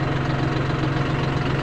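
A John Deere tractor engine idles steadily up close, a continuous low droning hum with a faint rattle and no voices.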